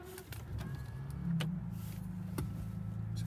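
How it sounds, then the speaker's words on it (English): A Rolls-Royce Phantom with a Service Engine Soon warning starting up, a low motor hum that rises and settles into a steady idle, with faint clicks and a short whirring tone nearby. "Let's go ahead and start the car,"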